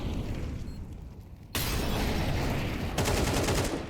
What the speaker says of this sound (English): The flashbangs are going to be difficult.